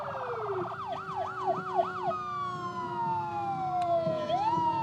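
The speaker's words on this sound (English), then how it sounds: "perhaps they were just honoring the mayor with their sirens blaring" Fire department sirens blare at a 1992 St. Patrick's Day parade, several overlapping wailing and yelping tones sweeping up and down loudly, with a steady horn-like drone underneath.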